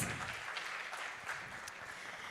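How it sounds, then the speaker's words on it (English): An audience at a business annual meet applauds, a steady wash of clapping that holds evenly throughout without anyone speaking. "can we have once again a big round of applause?"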